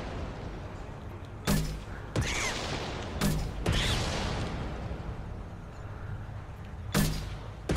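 Automatic turret gunfire in Mass Effect 2 rings out in several sharp bursts spread across a steady rumble of game noise, loud and close, with no talk over it.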